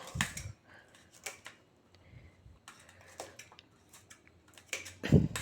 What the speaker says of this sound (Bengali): এবারে লঙ্কাগুলো কেটে নেব।